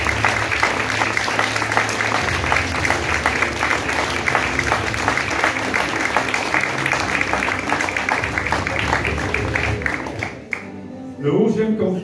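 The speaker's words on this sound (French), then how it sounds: "Applaudissements." An audience at a local event applauds with sustained, dense clapping. The clapping thins out and fades near the end, and a voice then takes over.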